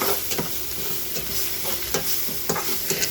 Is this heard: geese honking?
no